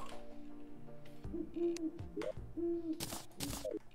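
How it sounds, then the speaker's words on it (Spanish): An owl in the video game Terraria hoots in a few soft repeated calls amid quiet game music and sound effects, with sharp bursts of noise near the end. "Ey, ¿el búho está atrapado?"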